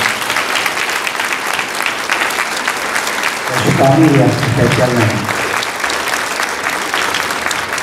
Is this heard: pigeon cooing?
no